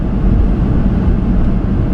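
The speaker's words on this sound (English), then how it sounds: "So let's excuse the fan noise for a moment." A car's air conditioning fan blows cold air inside the cabin, giving a loud, steady, broadband rush with a low rumble and no talking over it.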